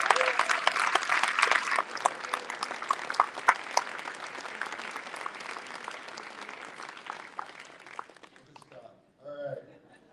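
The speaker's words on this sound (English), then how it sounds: "Round of applause for Rebecca and CW" An audience at a lifetime achievement awards event applauds two recipients, brisk crowd clapping that tapers gradually, followed by a brief voice speaking once the clapping stops.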